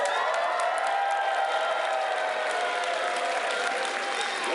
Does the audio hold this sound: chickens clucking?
no